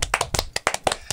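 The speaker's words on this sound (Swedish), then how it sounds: "Applåd!" Applause in a live talk-show studio: a short run of sharp, irregular hand claps, close and fairly loud, from what sounds like a small group, with no talk over it.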